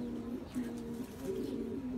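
Pigeons cooing up close, a few soft repeated throaty coos over quiet background, no talking.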